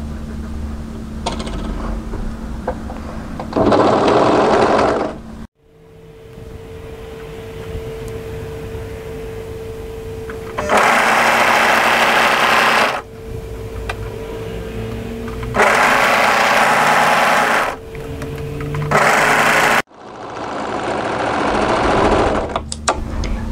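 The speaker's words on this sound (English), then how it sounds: "overlock that together." An overlocker stitches the side seam of a drop-shoulder raw-hem tee in several loud bursts of whirring mechanical running, separated by quieter pauses and brief stops, close to the machine with no talk.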